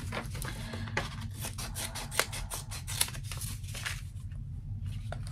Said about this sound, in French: Ciseaux, ciseaux, ciseaux.